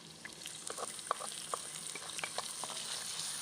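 Tomatoes dropped onto browned onions frying in a pan, a soft steady sizzle broken by scattered small pops and crackles, close but fairly quiet.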